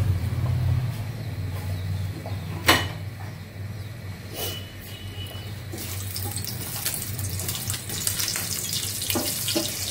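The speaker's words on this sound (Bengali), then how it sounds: "তো ডাউলটা তেলে দিয়ে দিচ্ছি" Lentils (dal) are tipped into hot mustard oil in a pan and crackle with a steady, close frying hiss over a low background hum, the sizzle swelling brighter and fuller in the second half.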